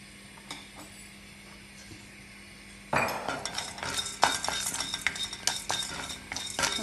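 A spoon scrapes and clinks against a pan as ingredients for puliyodharai roast on a lowered stove flame. The stirring starts after a quiet stretch and continues in close, busy metallic strokes.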